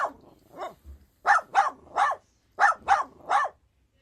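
A dog barking in quick bursts, two softer barks and then two loud groups of three sharp barks, close and clear with no talk.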